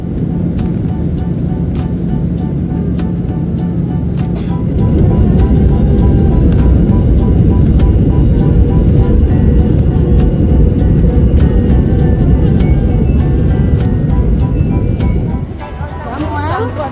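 Constant loud cabin drone of a Malaysia Airlines airliner in flight, a dense low rumble that swells slightly after a few seconds and holds steady, with a voice talking over it.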